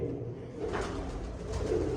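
Soft, repeated cooing of pigeons close by, low throaty calls rolling over one another against a quiet background.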